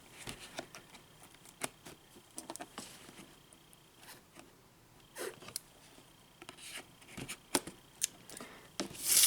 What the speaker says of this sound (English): Should have gotten smaller scissors.